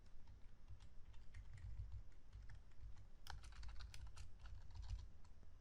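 Keystrokes on a computer keyboard while typing code, a steady run of close, crisp clicks with a denser burst of faster taps midway, over a low background hum.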